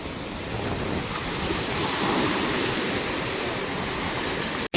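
Sea waves crash under strong wind where boats are being tossed about, a constant loud roar of surf and wind buffeting the microphone, with no voices.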